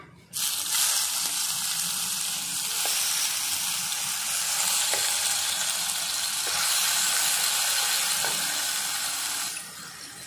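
Onion paste sizzles in a pan, a loud, even frying hiss that swells in right after it goes in, carries on for several seconds with faint ticks of stirring, then eases off at the end, with no voices.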